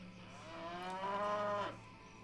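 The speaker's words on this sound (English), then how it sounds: "Yes, that is a cow, all right." A single long, low cow moo from Diablo 2 Resurrected, rising and falling over about a second and a half against quiet game background.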